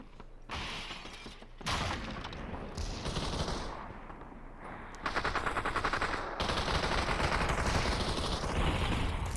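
Gunshots in the VR battle royale game Population: One crack out in repeated bursts and scattered single shots over a busy layer of mechanical clicks and clatter, fairly loud and continuous throughout.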